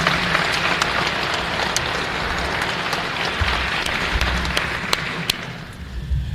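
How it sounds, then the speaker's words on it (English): Banquet audience at a sports hall of fame induction ceremony applauds steadily throughout, a dense wash of clapping from a large room with no talk over it. "audience, I invite your applause now of thanks for these devoted individuals"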